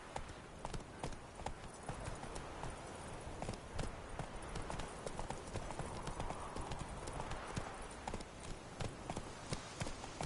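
Horse hooves galloping in The Witcher 3, a steady fast clip-clop of hoofbeats running throughout over ambient game sound, close and fairly loud.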